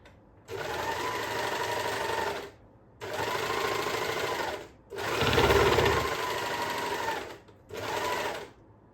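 An overlocker stitching a seam on scrunchie fabric runs in four steady, loud bursts of rapid mechanical whirring, each a couple of seconds long and separated by short pauses.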